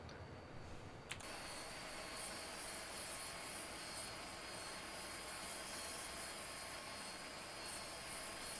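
Dash 8 turboprop's number 1 engine starting up in the Prepar3D flight simulator, Flybe livery, a steady, even whirring roar filling the whole stretch after a brief click near the start.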